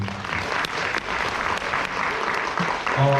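Audience applause at a company seminar in a Cheonan resort, a continuous wash of many hands clapping, fairly loud and even, with a voice briefly starting near the end.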